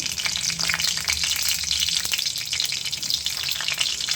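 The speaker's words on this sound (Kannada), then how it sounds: "ಫಸ್ಟು ಮೆಣಸಿನ್ಕಾಯಿ ಹಾಕೊಳ್ಳೋಣ. ಅದು ಚೆನ್ನಾಗಿ ಫ್ರೈ ಆಗಬೇಕು." Green chillies, broken into pieces, fry in hot oil with a loud, dense, continuous crackling sizzle close up, steady throughout with no voices.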